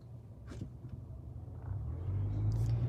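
Low, steady engine and road rumble from inside a moving car, building slightly louder toward the end, with faint movement noises and no clear talking.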